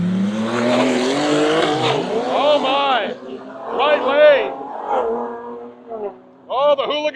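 A Fox Body drag racing car's engine roars and revs hard as it accelerates down the right lane at Roadkill Nights 2025, with loud rising and falling pitch sweeps, while excited commentary talks over it.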